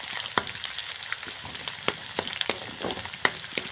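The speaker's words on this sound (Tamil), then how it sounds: "இப்போ நம்ம இந்த கருவேப்பிலை போட்டுருவோம்." Curry leaves crackle and pop in hot oil for a sambar tempering, with sharp, irregular spits over a steady close sizzle and no talk.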